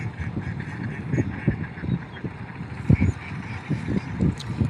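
Farm ducks about four months old, at laying age, quack and honk in a steady, overlapping chorus of short calls, fairly close and moderately loud, with no talking.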